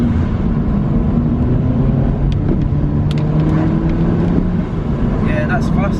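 A modified Audi TT with a bodykit pulls hard in second gear, its engine note a loud, steady droning roar that climbs gradually in pitch across the run, recorded from inside the car.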